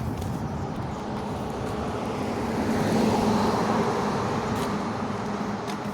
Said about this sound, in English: It's like you're driving down the road with the other cars